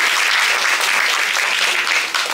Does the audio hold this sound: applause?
yes